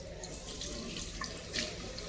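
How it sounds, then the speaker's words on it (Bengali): Automatic sensor faucet in an airport washroom running water into a sink, a soft steady splashing stream heard close but faint throughout, with a slight surge near the end. "দেখুন, হাত রাখলেই কিন্তু জল পড়বে,"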